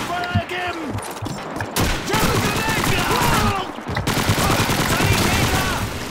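Gunfire in the video game Call of Duty 2, with bursts of shots and a fusillade-like clatter running through the clip, mixed with game sounds and voices talking over it.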